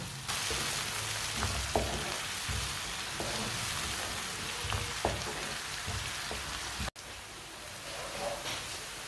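Garlic and vegetables frying and browning in a pan for an aloo, matar and gajar dish: a steady close sizzle with occasional pops and soft stirring scrapes, continuous throughout with no voices.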